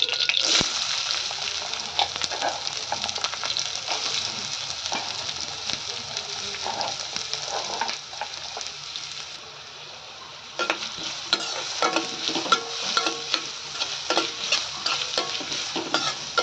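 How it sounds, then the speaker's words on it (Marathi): Onion sautéing in oil makes a continuous close sizzle, with frequent scraping and stirring strokes. The hiss dips briefly midway, then returns strongly. "तर आपण कांदा घालून घेऊया"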